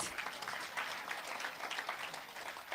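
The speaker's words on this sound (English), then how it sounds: "You can applaud if you want" Applause from an audience at a political party town hall forum, steady and dense clapping throughout without pause.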